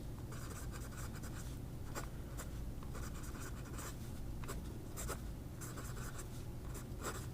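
A Maruzen fountain pen with a number 5 nib scratching across Amalfi paper, a close, continuous soft hiss of nib on paper with brief stroke accents, quiet and steady throughout.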